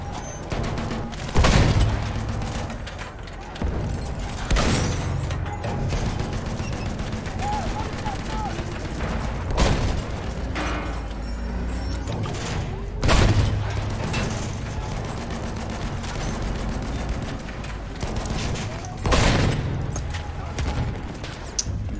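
Tank gunfire in a video game, with heavy booming cannon shots at intervals of a few seconds over continuous rattling fire and engine rumble, loud and close, with voices talking throughout.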